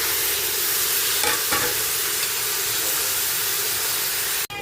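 Pork and onions fry in a pan with a loud, steady sizzle and hiss, broken by a couple of scraping stirs early on and a sharp clatter at the very end.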